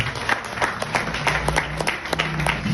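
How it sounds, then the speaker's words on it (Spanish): Congregation applauding during a Spanish-language church sermon: dense, steady clapping from a crowd, fairly loud and continuous throughout with no speech over it. "Dale un aplauso a Dios."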